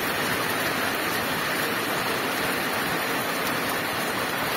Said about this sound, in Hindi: घर आते ही इतनी भयंकर बारिश भी शुरू हो गई है